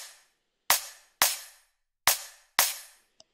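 Layered synthetic kick drum samples programmed in Ableton for a neurofunk drum and bass track, four loud punchy hits with sharp attacks and short roomy decays in an uneven rhythm, heard alone.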